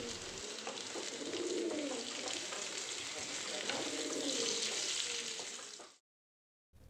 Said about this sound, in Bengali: একটু কালারটা চেঞ্জ হয়ে ব্রাউন কালার আসছে ততক্ষণ আমি ভেজে নেব